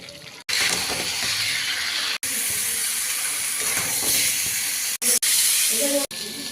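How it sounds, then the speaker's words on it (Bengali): Young jackfruit fries in a pan with potatoes, tomatoes, cumin, bay leaf and mixed spices, giving a loud, steady sizzling hiss broken by a few brief sharp gaps. "এবার এঁচোড়টা দিয়ে একটু কষিয়ে নেব।"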